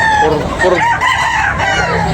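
A white hatch rooster at a poultry sale crows loudly and close, one long strained call filling the whole stretch with harmonic rises and falls.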